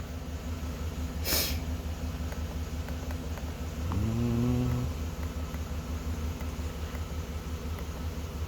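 A 2011 Chevrolet Silverado engine idles smoothly with no misfires: a steady, even low rumble throughout, with one brief swell in engine tone partway through, heard up close.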